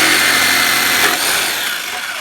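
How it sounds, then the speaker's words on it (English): Jigsaw cutting along the edge of a factory speaker bracket in a 2010 Mazda 3, a loud continuous buzzing saw whine close by, steady throughout with slight wavering as the blade moves. "First thing we're going to do is fire up the jigsaw."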